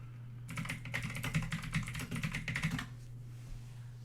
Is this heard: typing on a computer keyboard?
yes